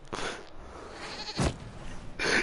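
A goat in the video game Dragon Age Inquisition lets out a few short, nasal bleats in quick succession over light background game ambience.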